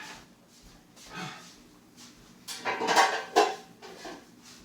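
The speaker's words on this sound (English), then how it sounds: "bread pans." Metal bread pans for small sourdough loaves clatter and clank as they are handled in a kitchen, several scrapes and knocks that grow louder toward the end, with quiet breathing between them.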